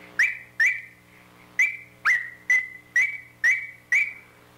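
A handheld squirrel call blown with a finger pressed on the reed gives eight sharp, high-pitched whistled squeals, each quickly fading, spaced at fairly even intervals.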